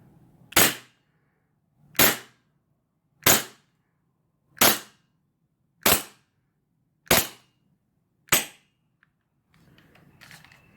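A WE Glock 34 T3 airsoft gas blowback pistol fires seven sharp, loud cracks at an even pace about a second apart, then a faint rattle follows.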